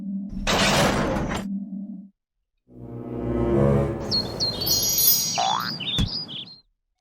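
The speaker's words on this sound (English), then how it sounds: "The fuzzball alien ship crashed in the planet." Alien ship crashing in the Kodable programming game: a loud burst of shattering noise, a pause, then a rumbling crash with bright chimes, boings and zaps layered on top before fading out.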